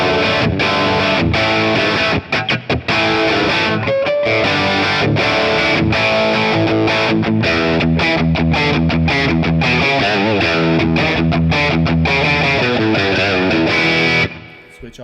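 Distorted electric guitar from a Les Paul played through a Marshall JCM 2000/DSL100 crunch amp capture, loud and continuous riffing with chords and single notes for about fourteen seconds before cutting off, no talk.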